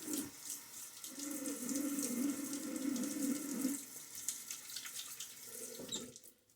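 A bathroom tap runs steadily into a sink as water is gathered to wet the face before a wet shave, a close, continuous splashing stream that cuts off near the end.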